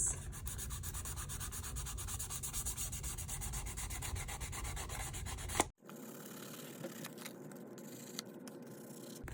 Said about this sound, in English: I think I'm going to try to sand around this.